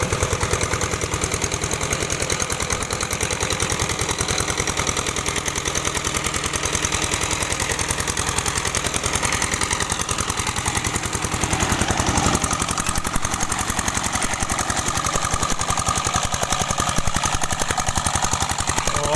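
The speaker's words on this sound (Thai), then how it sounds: "เสียงเครื่องยนต์" A modified plowing tractor with a homemade custom exhaust pipe working hard soil to cut furrows for planting Japanese sweet potatoes, its engine producing a loud, continuous rapid popping rattle close by, steady throughout with no talk.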